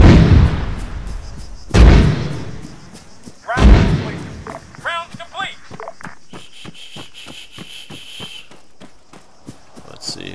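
Artillery barrage in the video game Arma 3 striking a building: three heavy booming impacts about two seconds apart, followed by rumbling debris, crackling and scattered smaller thuds trailing off.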